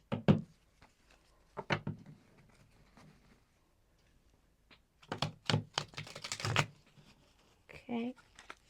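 Tarot cards being shuffled by hand: scattered sharp riffles and taps come in bursts between gaps, louder in a dense flurry near the end, with a voice speaking at moments.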